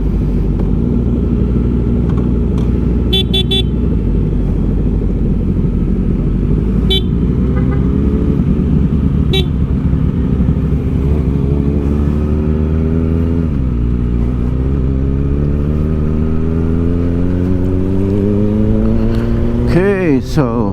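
Kawasaki Ninja ZX4-RR ridden fast on a road, a loud steady engine drone with wind rumble and rising and falling revs, brief horn toots along the way, and a voice talking over it.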